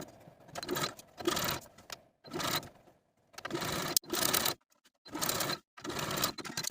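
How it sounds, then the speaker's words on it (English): A sewing machine stitches a seam in a velvet dress sleeve, running in short rapid bursts of mechanical whirring and clatter with brief stops between them, close and moderately loud. "take it to your sewing machine and sew with a 5/8 inch seam allowance."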